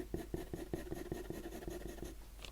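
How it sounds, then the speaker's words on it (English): Soft graphite scratches from an 8B pencil shading a drawing of an apple on paper, a steady run of about ten close, quiet back-and-forth strokes. "I'm going to go back to my 8B pencil, and I'm going to shade through"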